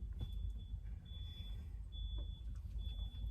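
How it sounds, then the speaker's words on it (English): Faint intermittent reversing beeps from a backing vehicle sound at a distance over a low rumbling traffic hum, about four high steady tones repeating evenly. "Somebody's backing up."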